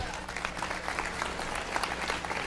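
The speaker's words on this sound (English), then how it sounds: "Can we give him a big round of applause?" Crowd applause at a county fair livestock show, greeting a hog show judge; steady, dense clapping throughout, moderately loud with a busy, reverberant room tone.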